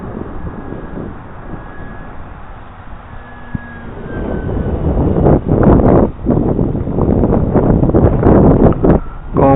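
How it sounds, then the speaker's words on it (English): Strong wind gusts outdoors on an open flying field, blasting the microphone with loud rumbling bursts that build after a calmer start and stay heavy and uneven, with a faint whine of a model airplane early on. "the wind is really gusting"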